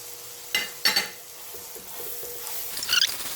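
Two cut bananas dropped into a hot pan and sizzling, with a few sharp bursts of frying and stirring clatter over a quiet low sizzle.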